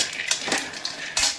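Peanuts roasting in a pan on a gas stove for ladoos, heard as close, dry scraping and rattling of nuts against metal in a few uneven bursts.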